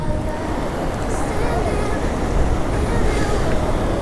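Halluvagilu waterfall near Hassan roars as a steady, loud wall of rushing water with no pauses, filling the whole scene from close range.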